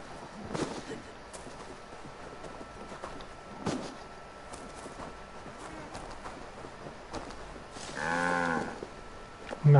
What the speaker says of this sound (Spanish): Una vaca por estos lares.